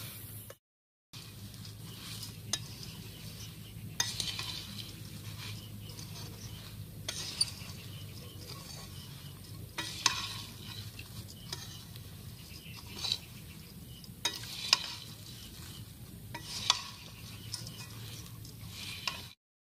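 Puffed rice snack being mixed by hand with fried chickpeas and peanuts, a continuous dry rustling and rattling of grains with scattered small ticks and crackles, steady and close, with no voices.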